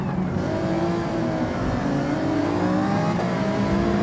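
A race car engine in Gran Turismo 7 revs and climbs steadily through the gears, a continuous close whine that rises in pitch, heard on its own.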